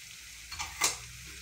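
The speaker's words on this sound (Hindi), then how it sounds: "अब मैं इसके अंदर ये जो अपने आलू मैंने कट करके रखे थे वो ऐड कर रही हूँ" Chopped potatoes go into a pan of frying keema and get stirred. A quiet sizzle runs underneath, with two brief louder scraping splashes close by in the middle.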